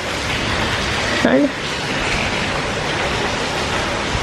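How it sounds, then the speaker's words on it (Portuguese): Rainwater runs down from a concrete roof slab in a steady, loud wash of splashing noise. Someone briefly speaks over it. "Desce uma água de lá, olha, gente, do... da laje, né? Do telhado."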